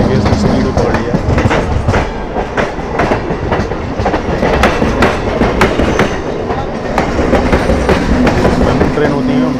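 A passenger train travels on a journey from Ghazipur, Uttar Pradesh, toward Asansol and Durgapur, its wheels giving a loud, continuous rumble with steady clickety-clack over the rails and a voice talking underneath.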